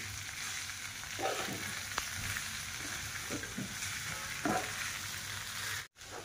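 Poha being stirred in a frying pan, a soft continuous sizzle with several light scraping strokes of the spoon, fairly quiet and with no voices.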